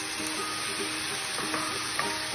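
Tomato goes into a hot pot of beef and vegetable stew and sizzles, a dense, even hiss with a few faint clicks, steady and close, with no voices.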